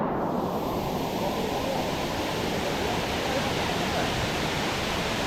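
A hidden waterfall in Phuket, Thailand, makes a constant, dense rushing roar close by that fills the whole stretch without pause.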